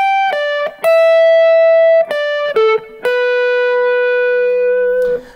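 Clean electric guitar plays a short improvised phrase of sustained single notes and quick slides, ringing out loud and close with no talking.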